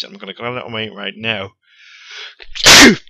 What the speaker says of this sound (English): that was a sneeze right there